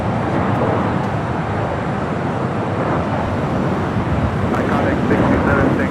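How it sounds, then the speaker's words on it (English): A Gulfstream G450 business jet arriving from Cabo lands on runway 25 left at LAX's south side, producing a loud, steady broadband jet rush that continues throughout with voices faintly underneath. "Gulfstream and G450 arriving here on the south side at 25 left."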